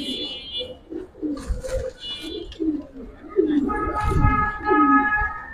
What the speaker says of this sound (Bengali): বাঘা কবুতর